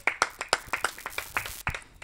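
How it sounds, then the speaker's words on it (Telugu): Loud, sharp claps from an audience at a Telugu church sermon, coming in an uneven rhythm of about a dozen distinct slaps over two seconds, close and bright, with no talk over them. "కొట్టండి చప్పట్లు గట్టి"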